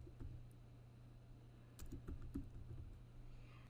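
A computer keyboard is tapped in faint, quick clusters of keystrokes over a low steady hum, with a denser burst in the middle.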